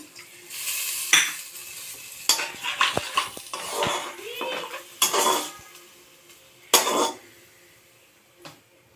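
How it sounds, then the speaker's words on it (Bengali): Katla fish curry is stirred in a pan after salt and turmeric go in, a spoon scraping and clinking against the metal in irregular bursts over a soft sizzle, fairly close, with no talking. "লবণ হলুদ দিয়ে দিলাম, নেড়ে চেড়ে নেব।"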